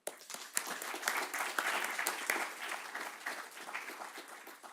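A conference audience applauds steadily, a dense patter of many hands clapping at once that slowly thins toward the end.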